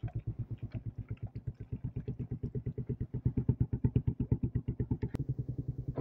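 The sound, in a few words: motorcycle riding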